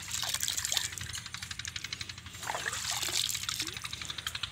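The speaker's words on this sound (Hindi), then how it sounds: "यहाँ से पानी लीक हो रहा है" Water steadily trickles and gurgles where it leaks from a field irrigation channel in rural Punjab, a continuous close babbling flow with a light, pulsing rhythm.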